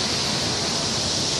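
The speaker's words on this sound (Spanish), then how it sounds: "La cascada secreta." A waterfall in Petrohué, Chile, roars as a steady, dense broadband rush, loud and unbroken throughout the short stretch with no voices.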